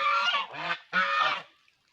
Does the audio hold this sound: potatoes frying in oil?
no